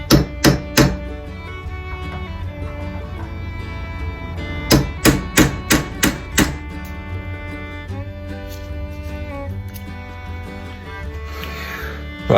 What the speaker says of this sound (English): So I'm going to use a small punch and gently tap it on this side, hopefully withdraw it from there.